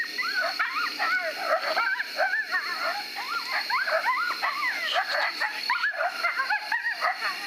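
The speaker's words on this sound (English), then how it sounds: "there was a coyote that was super, super close, barking and howling back at us" A coyote very close by in a field at night yips, barks and howls in rapid, overlapping wavering calls, loud and continuous through the whole stretch.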